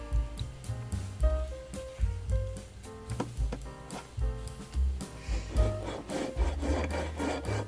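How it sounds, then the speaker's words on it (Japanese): A 30 cm steel hand file rasps back and forth, smoothing the rough cut edge of a floor plate for an old Katsumi KiHa 82 model train. The strokes are steady and fairly faint, with no talking. "それでヤスリを使って切り口をまっすぐにします。"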